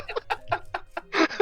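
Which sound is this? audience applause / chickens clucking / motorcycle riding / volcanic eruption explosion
chickens clucking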